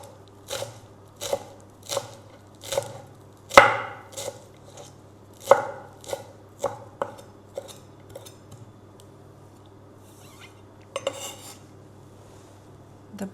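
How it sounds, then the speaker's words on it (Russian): A knife finely chops parsley on a cutting board, with sharp taps coming in an irregular rhythm, close and fairly quiet, then pausing before a few final cuts. "Мелко-мелко нарезаем."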